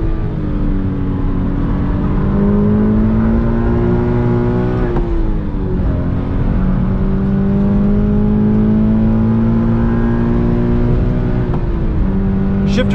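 A 2020 Toyota 86 Hakone Edition's engine pulls hard through several gears, its pitch climbing steadily then dropping at each of two shifts before rising again, heard loud and close from the cabin.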